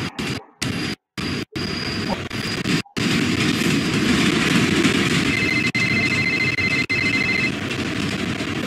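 A train rushes past in a Japanese-setting horror video game, a loud, steady roaring rumble with rail noise that starts after a few brief cutouts and holds on continuously, with faint high tonal whines near the end.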